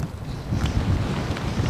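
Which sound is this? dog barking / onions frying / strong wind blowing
strong wind blowing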